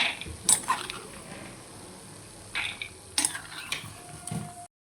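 Roasted peanuts scraped and tipped from a pan onto a plate, a few short clinks and rustling scrapes of a spoon against metal in separate bursts over a faint background hiss.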